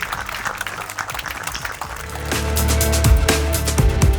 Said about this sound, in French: j'aimerais qu'on applaudisse très,